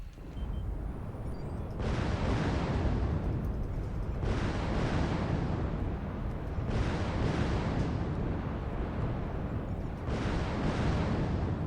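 Repeated missile explosions in MechWarrior Online, a continuous heavy rumbling barrage of blasts in four long waves, each starting abruptly, loud and close with no voices.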